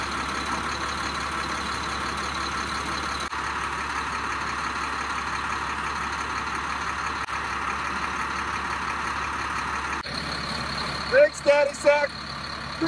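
A garbage truck engine idles with a steady low rumble while trash is hoisted into it at a lake cleanup, then brief louder mechanical clanks and whines from the lift rise near the end.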